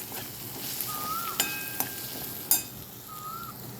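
Spices and crushed peanut powder are stirred in a pan, with a soft sizzle under a few spoon clinks and scrapes and a faint whistle-like tone, all quiet with no speech.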